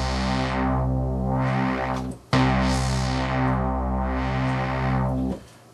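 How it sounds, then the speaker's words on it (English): A MacBeth M5N analog synthesizer holds a buzzy sustained tone while a modulated filter cutoff sweeps slowly open and closed, with a brief break midway before the note resumes and fades at the end. "I've connected this output to control filter cutoff, and it sounds like this."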